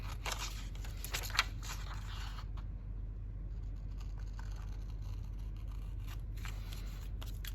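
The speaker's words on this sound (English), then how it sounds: "I will use my big scissors, and then I can just follow this one straight through." Large scissors cut straight through a paper journaling card with a series of faint, close crisp snips over a low steady hum, no talking.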